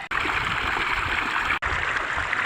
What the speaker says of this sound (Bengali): আর এদিকে জল চলছে